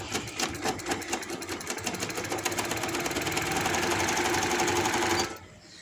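A sewing machine stitching elastic onto palazzo trousers runs in a steady, fast, close mechanical whir with an even rhythm, then stops abruptly near the end.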